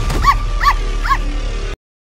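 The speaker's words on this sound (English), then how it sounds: "Hang on, I'll get my attack dogs to finish buddy off." Attack dogs in a video game give three quick, loud barks with yips in an even rhythm, close up, then the sound cuts off abruptly.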